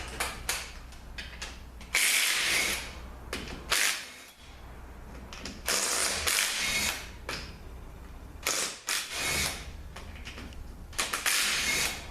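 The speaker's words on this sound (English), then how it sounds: "Get the pump bolts out." A ratchet wrench backs out the pump bolts on a 4L60E automatic transmission during a teardown, with close, loud bursts of rapid metallic clicking separated by short pauses.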